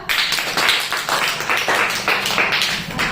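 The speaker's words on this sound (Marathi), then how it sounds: "यांच्यासाठी टाळ्या वाजवा" Students in a classroom clap together in a brisk, rhythmic round of applause that stays loud and close for the whole stretch.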